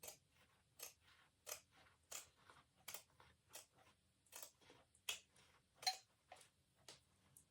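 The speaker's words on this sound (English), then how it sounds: "You do it with normal scissors, or if you've got pinking shears, you can use pinking shears." Scissors trim corduroy seam allowances on a pinafore dress, a close series of crisp, regular snips, roughly two per second, quiet and alone with no talking.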